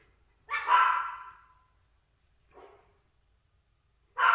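A dog barks indoors in a few separate sharp barks, a loud one, a softer one after a pause, then another loud bark at the end, with quiet room tone between them.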